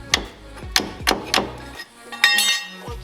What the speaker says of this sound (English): you can literally just take a pry bar and pry